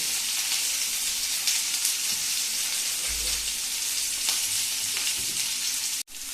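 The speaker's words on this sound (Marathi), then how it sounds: "पॅन घेऊन त्यात तेल टाकले आणि हे कांदे घातले" Chopped onions sizzle in hot oil in a pan, a steady frying hiss with occasional stirring scrapes and a sharp knock near the end.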